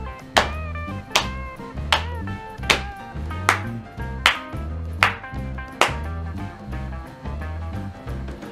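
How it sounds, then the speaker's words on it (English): Rhythmic body percussion from hands slapping and tapping the body and clapping, a steady pattern of sharp hits roughly every 0.7 seconds over a low pulsing tone, close and clear with no talking. "We call this body percussion."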